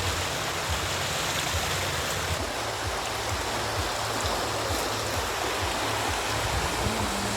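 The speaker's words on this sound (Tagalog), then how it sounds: "paminaw ng daloy sa tubig" Water flows steadily in a stream, a continuous rushing wash that stays constant throughout with no voices.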